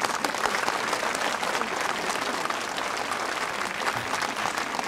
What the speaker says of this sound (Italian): Applaudite!